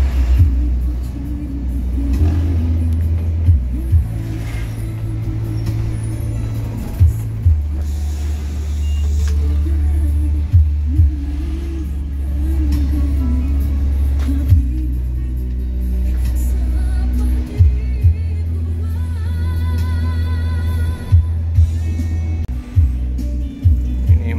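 An Al Hijrah bus travels a small, busy, wavy eastern cross-country highway in Sumatra, its engine rumbling loud and low throughout, with repeated thumps and knocks from bumps in the road.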